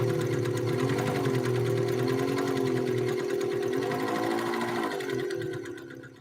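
An Elna Lotus SP sewing machine runs a straight stitch, a loud, close, continuous whirring hum with a motor pitch that rises and falls as the speed is pushed up and down, then fades out at the end.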